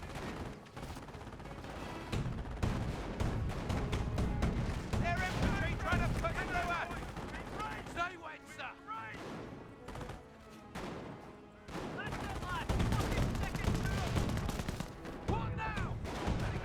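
Rifle grenade fire and gunfire in the World War II strategy game Company of Heroes 1: a dense, continuous stretch of distant shots and bursts sounds beneath steady commentary talk.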